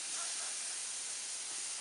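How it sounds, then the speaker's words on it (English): Steak marinated in alcohol is laid on a grill and hisses with a steady, bright sizzle. The sizzle is close and constant for under two seconds, with no voices. "I'll just place the meat at a 45-degree angle on the grill."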